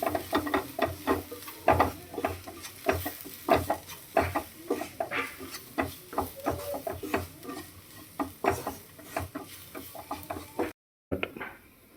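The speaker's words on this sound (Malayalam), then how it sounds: "നമുക്ക് മുളക് പൊടിയും കൂടി ചേർത്ത് കൊടുക്കാം. ഇനി ഇതൊന്ന് ഇളക്കി കൊടുക്കാം." A spoon stirs masala with chili powder in a pan for a squid stuffing, scraping in a steady run of close scratchy strokes over a soft sizzle, with a short drop to silence near the end.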